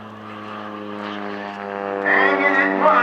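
Propeller airplane performing aerobatics at a county air show, a steady droning engine hum with strong harmonics that grows louder and rises in pitch as it nears, heard outdoors with faint crowd noise.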